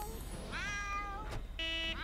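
A cat meows in The Sims 2, giving three clear, fairly loud meows, the middle one long and drawn out and the last short, with no speech.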